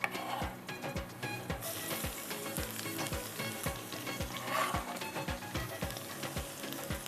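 Onions and garlic brown in a pan for a mutter pulao, a bright, steady sizzle with regular clicks from stirring throughout, close and clear with no talking.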